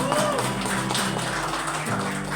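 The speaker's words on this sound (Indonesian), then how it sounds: "Tepuk tangan buat Mas Rio dan" Guests at an engagement ceremony applaud the couple, a continuous dense clatter of many hands at moderate loudness, with some voices and low murmur underneath.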